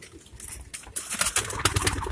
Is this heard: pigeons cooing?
yes